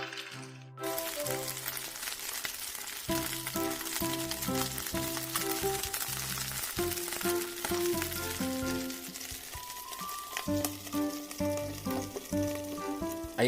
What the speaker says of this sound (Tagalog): Ilagay na natin ang nakamix na tuna. I-fried lang ito mga karaki.